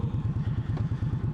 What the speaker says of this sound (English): this engine braking is good, but this dive, look at that